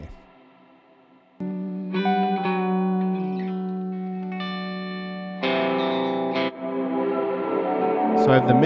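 Guitar through a BigSky reverb pedal, a quiet start then bright ringing chords swelling into a dense, lingering reverb wash, with a few note changes and a louder strum near the end.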